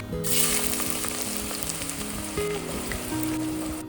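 Onions with cinnamon, cloves and cardamom frying in hot oil and ghee for mutton yakhni pulao, a dense, even crackling sizzle that stays loud and close with no voices.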